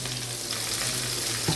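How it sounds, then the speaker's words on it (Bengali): Mango pieces cooked down with jaggery, salt and turmeric fry and crackle in a pan, with a steady close sizzle and a soft scrape of stirring near the end, no voices. "দেখো হলুদ দিয়ে নুন দিয়ে নাড়ছি, ফ্রাই করছি।"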